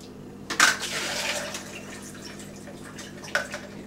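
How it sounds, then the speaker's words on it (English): A measured cup of water poured in over ice for a shake, heard as a brief splashing pour up close, then a second small splash near the end, otherwise quiet. "And then I put like a cup of water in"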